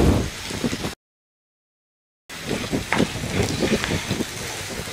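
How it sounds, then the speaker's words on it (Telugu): Onions and curry leaves fry in hot oil, a faint crackling sizzle like light rain, cutting out completely for over a second before resuming with scattered pops. "ఈ ఉల్లిపాయ మిశ్రమాన్ని బాగా వేగనిద్దాం."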